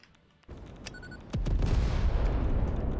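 A nuclear explosive detonating in the factory-building game Satisfactory, a sudden deep booming blast after a short sharp crack, followed by a sustained heavy low rumble that holds loud to the end.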